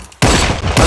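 Guns fired into the air in a movie scene: a loud burst of rapid gunfire that erupts after a short quiet lead-in and continues as overlapping shots, with a fresh blast at the end.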